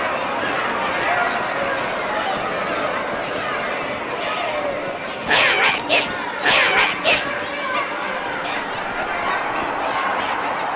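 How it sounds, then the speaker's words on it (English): Crowd chatter from a Halo 2 cutscene forms a steady background murmur, with a few louder bursts of crowd noise partway through and voices talking over it. "Drawn quite a crowd."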